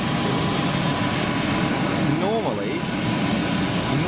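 A British Airways airliner taxis at Geneva Airport, its engines a steady, loud broadband roar with a faint wavering whine, while a voice speaks over the noise.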